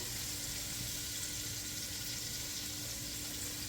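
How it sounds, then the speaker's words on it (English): Steady, close sizzling and crackling of chicken frying in hot oil, continuous and even throughout with no voices. "I just put in the first set of chicken that we're frying"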